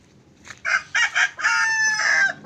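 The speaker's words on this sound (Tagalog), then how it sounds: "May mga alaga din siyang manok oh." A rooster crows on a wide banana plantation, a loud nearby cock-a-doodle-doo in a few clipped opening bursts followed by one long drawn-out note, with no talk.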